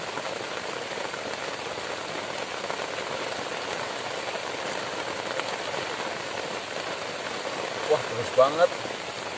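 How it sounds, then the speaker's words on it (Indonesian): Heavy rain pours steadily on a simple camping shelter of grass and leaves, a dense, close hiss throughout, with someone briefly speaking under it near the end. "sampai kapan ini hujannya"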